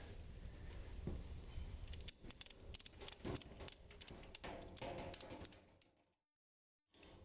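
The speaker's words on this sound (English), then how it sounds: "And ratchet it tight." An E-track cargo strap is ratcheted tight inside a trailer, with a run of quick, sharp mechanical clicks in uneven bursts, fairly close, ending in a brief silence before one last click.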